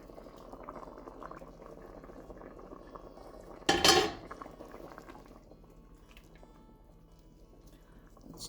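Potatoes boil in a pot on the stove, a soft low bubbling broken by a sudden loud clatter of a lid or utensil against the pot, then quiet simmering again.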